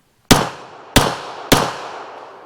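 Three sharp gunshots from a WWII-era Canadian Inglis High Power Mark I pistol with stock, fired one-handed, loud and close, each crack followed by a short ringing decay, spaced about half a second apart.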